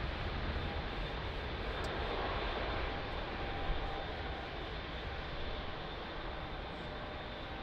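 A steady, broad jet-engine roar from an airliner lining up on runway 02 at Lisbon Airport, holding at an even level from a distance for several seconds with no talk.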